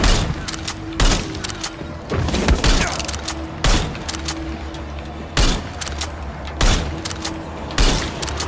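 Gunfire in the video game Far Cry 6, with loud, sharp shots coming at irregular intervals over a busy, noisy game background.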